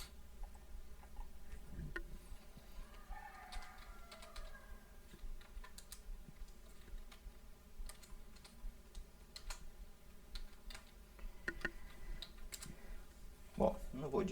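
Quick, light keystrokes on a computer keyboard, a quiet irregular patter of clicks running under a person speaking.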